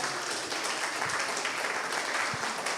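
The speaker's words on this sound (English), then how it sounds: "let's give applause, big applause for the speakers and for you all" Audience applause for the speakers at a session on red blood cell and platelet antigen testing, a moderate, steady patter of clapping throughout.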